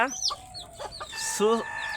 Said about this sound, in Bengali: দেশি মুরগির বাচ্চা